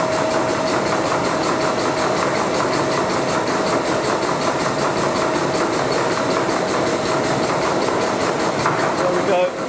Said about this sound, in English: we'll hear a change in the noise in the pump, indicating that the pump is no longer pumping any fluid